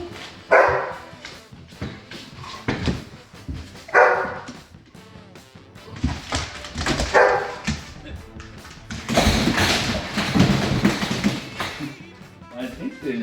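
Excited puppy greeting someone coming home, sharp yips and barks in bursts mixed with whimpers, close by, while a person talks and coos over the commotion.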